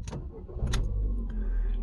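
A Ford Fiesta engine cranks and catches, settling into a low steady idle after a couple of brief clicks.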